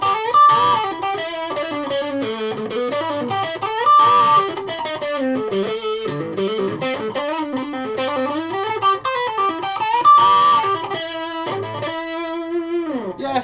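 Electric guitar with a P90 neck pickup played through distortion, a sustained melodic lead line with bends and held notes, loud and close, no talk.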